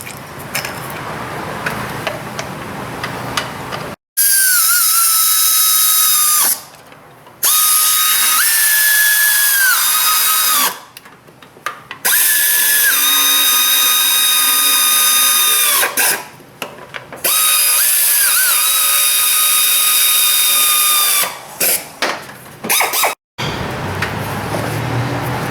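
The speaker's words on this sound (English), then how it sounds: "And then we'll stick our bolts back in it, tighten that up too." A power tool whines in repeated high-pitched bursts, separated by short pauses, as it runs bolts into the timing belt cover of a Honda J35 3.5 V6 engine, close and loud with no talking.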